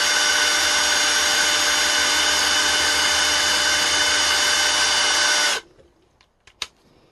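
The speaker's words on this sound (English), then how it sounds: "we're just going to drill in the IEC plug here, screw it in place. So we need to pilot it first." A power drill whines loudly and steadily for several seconds while drilling a pilot hole to mount an IEC plug, then stops abruptly, followed by a few faint clicks and taps.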